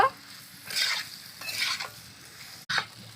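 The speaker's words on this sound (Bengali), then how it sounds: "হলুদ গুঁড়ো আবারও ভালো করে নেড়ে নেব" Potatoes with poppy seed paste, salt and turmeric being stirred in a pan, three or four separate scraping strokes over a soft sizzle, close and fairly quiet.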